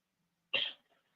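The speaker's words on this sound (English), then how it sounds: "I just had to clear my throat." A single sharp throat clearing, close and fairly loud, a short harsh burst that fades quickly, with a faint trailing breath afterward and quiet all around.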